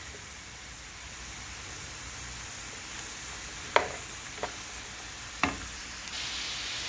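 Lean ground hamburger meat for shepherd's pie cooking in a skillet gives a soft, steady sizzle, broken by a few sharp scraping clicks of a utensil stirring and breaking it up.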